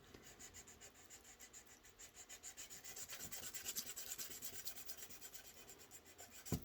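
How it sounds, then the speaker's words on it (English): Micro mesh is rubbed back and forth over the tenon of a flute to polish it, giving faint, close, rhythmic swishing strokes that repeat evenly throughout. "use your micro mesh to really polish it up"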